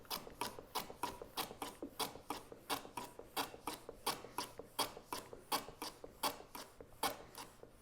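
Repeated rasping strokes of a hand tool cutting a chamfer along the edge of a wooden miter lid liner, about twenty even, rhythmic passes over eight seconds, close and fairly quiet, with no talk.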